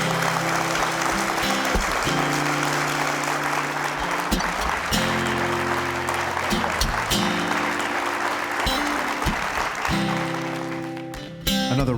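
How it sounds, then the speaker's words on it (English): An audience at an evening event honoring a former U.S. Attorney General in Washington, D.C. claps loudly and continuously, with sustained musical tones ringing underneath. "a round of applause for the Honorable Eric Holder"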